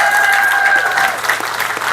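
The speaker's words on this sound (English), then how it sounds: "a round of applause?" An audience claps loudly and continuously for Miss Karma, a close, dense burst of applause with a few whistles or whoops riding over it.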